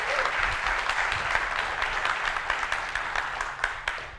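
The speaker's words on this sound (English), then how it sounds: "please welcome those two with a huge round of applause" A conference audience at a UI5 developer event claps steadily to welcome two speakers to the stage, a dense, sustained wash of applause with no voices standing out.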